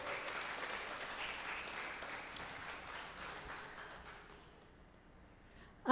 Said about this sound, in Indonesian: kami persilakan tepuk tangan untuk Partogi